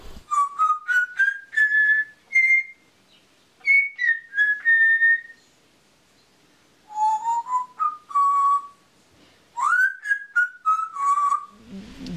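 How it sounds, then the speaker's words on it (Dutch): A parrot, said to sing like a human, whistles a clear melodic tune in short rising and falling phrases with brief pauses between them. It sounds close and bright, with no talk. "Het is echt een kamuurpapegaai, zoals je ze gehoord hebt."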